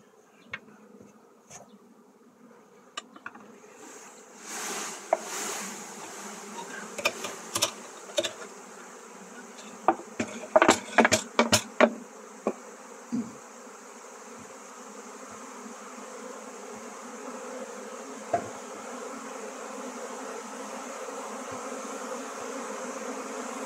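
Honeybees swarming at an apiary hive fill the air with a steady buzzing hum that builds gradually, while scattered clicks and taps sound in the middle stretch.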